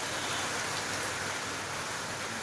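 Rain falls steadily in a dense, even hiss, moderately faint and uninterrupted, with no voices.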